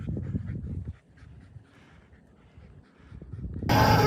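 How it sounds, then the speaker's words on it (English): Puppies pant and whimper close by with quick breathy huffs and small whines, then a sudden loud burst of broadband noise at the very end. "Come on, puppies."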